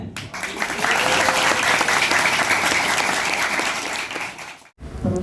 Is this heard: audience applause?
yes